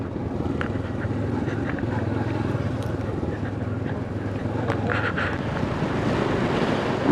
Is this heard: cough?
no